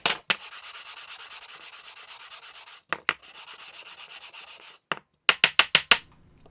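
Rhythmic back-and-forth strokes of sandpaper rasp against a wooden Disston No. 5 back saw handle in two long runs, broken by knocks, then a quick burst of short, sharp rubs.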